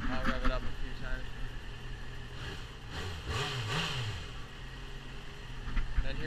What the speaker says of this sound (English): I'll rev it up a few times